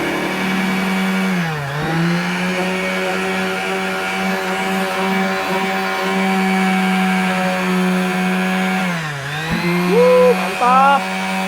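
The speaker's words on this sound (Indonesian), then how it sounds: "Kemudian kita gesekkan dengan menggunakan gerinda." An angle grinder grinds against a realme 6 smartphone, a loud steady high whine close up with brief dips in pitch as the disc loads and recovers, and a short rising squeal near the end.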